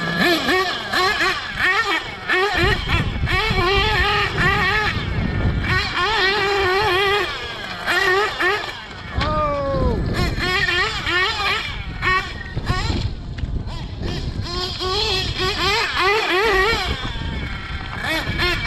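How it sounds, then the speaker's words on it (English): A nitro RC buggy engine screams and buzzes, rising and falling in pitch as it accelerates and backs off. Loud and fairly close, it runs for the whole stretch with voices mixed in. "Long run times with this nitro buggy."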